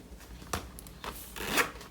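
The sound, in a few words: zipper closing on a handmade beach bag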